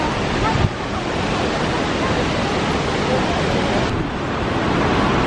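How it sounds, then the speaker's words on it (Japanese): Kegon Falls in Nikko roars as a steady, dense wash of falling water, loud and continuous throughout with a little wind buffeting, heard from a viewing point facing the waterfall. "滝が目の前"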